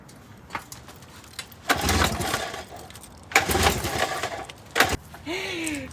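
A 1952 Firestone outboard motor, 5 or 7.5 horsepower, sputters to life in two loud, rough bursts of about a second each, separated by quieter pauses and followed by a short sharp knock.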